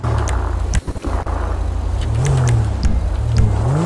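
A car engine revving and accelerating in the video game GTA V, loud and continuous with rising and falling pitch, close up and with no talk over it.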